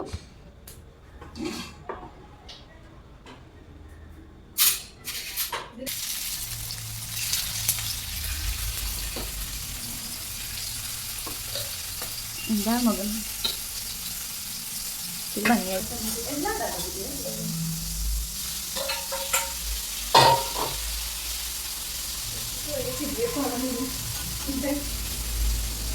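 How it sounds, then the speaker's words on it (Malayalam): Chillies fry in hot oil in a home kitchen, giving a steady close sizzle with occasional pan and utensil clatter, while voices talk over the frying. "അങ്ങനെ ഇതാ ചില്ലിയും വറുത്ത് കഴിഞ്ഞു"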